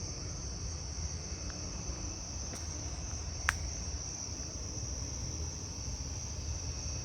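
Carolina ground crickets trill steadily and continuously, a fairly loud, unbroken high buzz outdoors at night that carries on alone for the whole stretch, with one brief faint tick partway through.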